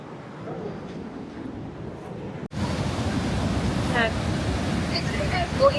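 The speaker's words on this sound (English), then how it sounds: "We're here to film the thundering of this water, and don't put music over it." Heavy surf on Canada's Pacific coast rolls in as a steady broadband roar of crashing water. The sound is close and continuous, rising slightly in intensity midway.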